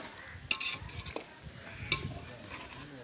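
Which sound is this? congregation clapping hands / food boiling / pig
food boiling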